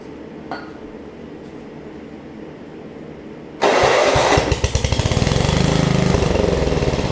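A Craftsman Murray rear-engine riding mower is started with the choke on; after quiet background the engine catches abruptly and runs loud and close, with a rapid uneven chugging that settles into a steady idle.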